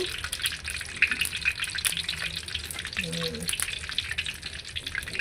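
Badusha dough pieces fry in hot oil in a sweet shop, giving a steady crackling sizzle with faint dripping, clinking touches and a brief murmur of voice in the background.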